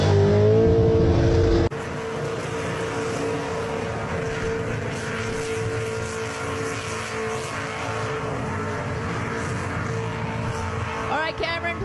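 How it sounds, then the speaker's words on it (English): A car on a burnout pad at a burnout championship roars with sustained, loud engine revving and tyre noise, continuous and close after a sudden start. "Oh, Cameron, you're a bit too fast, mate. Not a racetrack. Burnout pad."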